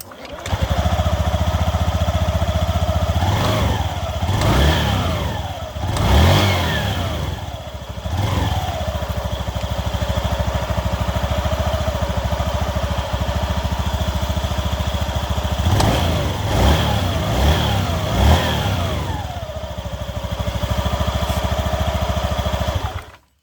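Honda Beat ESP scooter engine running steadily up close, rising in several revving bursts over a continuous idle, once the rattling noise when easing off the throttle has been fixed.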